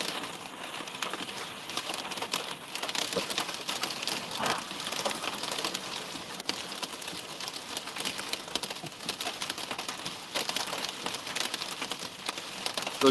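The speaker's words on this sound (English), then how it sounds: "A little larger than pea-size hail right now." Hail a little larger than pea size falling in a storm, a dense, irregular patter of small hard hits and clicks that continues throughout at moderate loudness, with no voices.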